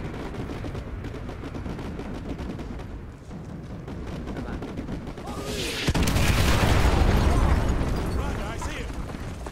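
Battle noise from Call of Duty Modern Warfare 2 (2020 remaster): scattered gunfire gives way to a heavy, rumbling artillery strike that swells and lingers, with voices talking over the combat.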